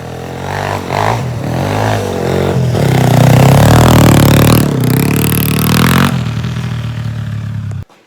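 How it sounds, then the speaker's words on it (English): A 1985 Honda 200X with a Cobra exhaust revs loudly and steadily for about eight seconds, its engine note rising and falling close up, then cutting off abruptly at the end. "That Cobra exhaust is loud,"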